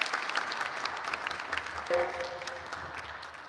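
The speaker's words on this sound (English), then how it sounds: "Let's give them a big round of applause." An audience in Bethel Baptist Church applauds at a benefit birthday celebration. The clapping is dense and sustained, then slowly eases off, and a single spoken word is heard briefly.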